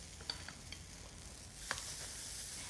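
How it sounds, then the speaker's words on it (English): Pumpkin fritters fry in hot oil with a soft, continuous sizzle and a few faint pops and clicks, heard close and quiet. "Hear that nice sizzle? It means our fritter is going to go lovely and brown on that side."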